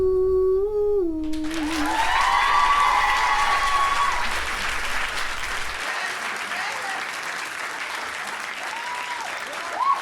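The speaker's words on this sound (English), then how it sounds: "Thanks for cheering really loud when I walked out." A big concert crowd erupts in loud applause and cheering after a sung voice ends, then sustained clapping and screaming fill the room before fading slightly, with a few shouts rising above.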